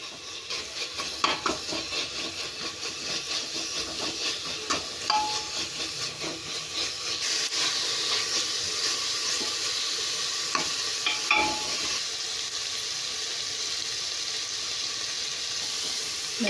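Crushed spice paste sizzles steadily in a hot pan for a prawn biryani, a continuous frying hiss with scattered stirring scrapes and occasional utensil clinks, close and fairly loud throughout.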